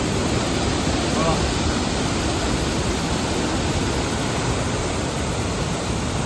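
Water spills over a small check dam like a waterfall at the Tyngam Masi viewpoint in Laitsohpliah near Cherrapunji. A steady, loud, broadband rush runs unbroken throughout.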